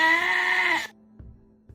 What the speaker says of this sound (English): This goat isn't a random goat that has just appeared out of nowhere.